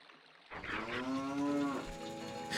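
A cow in Ocarina of Time lets out a single loud, drawn-out moo that rises and then falls, heard alone in a video game with no talk over it.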